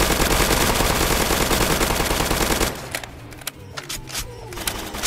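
Rapid automatic gunfire in the Roblox zombie game Zombie Uprising, a loud dense burst lasting several seconds before cutting off into scattered quieter shots and thuds.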